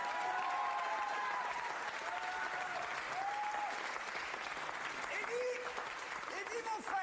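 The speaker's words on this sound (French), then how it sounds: "Je vous demande de l'applaudir chaleureusement." Warm applause from a church congregation fills the room, steady clapping at moderate distance with occasional voices and a few exclamations rising over it throughout.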